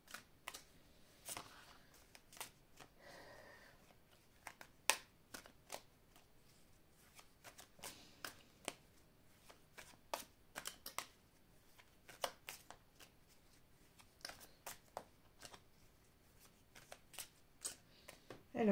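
Oracle cards from a Rho oracle deck are handled and spread out during a card reading, giving a quiet, close run of scattered soft snaps, flicks and slides spread irregularly throughout, with no speech.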